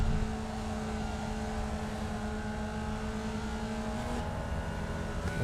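Formula Vee race car engine in the iRacing video game, a steady droning hum with sustained tonal harmonics, loud and continuous throughout, shifting slightly in pitch near the end.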